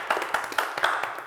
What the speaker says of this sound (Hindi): और तालियां होनी चाहिए।